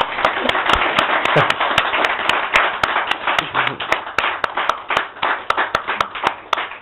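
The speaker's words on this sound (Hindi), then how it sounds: "तालियों में कमी नहीं होनी चाहिए" Applause at an award ceremony for a best performer: a modest crowd claps in a loud, fairly rhythmic run of crisp hand claps lasting several seconds, close and without speech.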